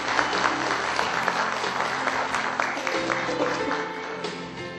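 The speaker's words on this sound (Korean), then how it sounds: "뜨거운 박수 부탁드리겠습니다" An audience at a renewable energy forum applauds a welcomed speaker, dense even clapping from a seated crowd that holds steady throughout.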